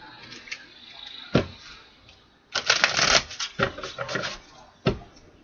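Close hand shuffling of tarot cards: a few sharp card snaps around a dense, crackling riffle lasting about a second, over a faint steady background.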